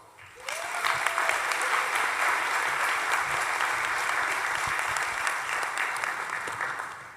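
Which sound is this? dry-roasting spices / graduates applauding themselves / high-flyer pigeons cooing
graduates applauding themselves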